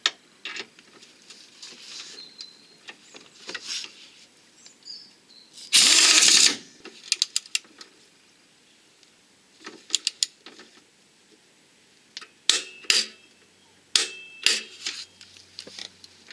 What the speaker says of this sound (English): Refit the subframe front left bolt.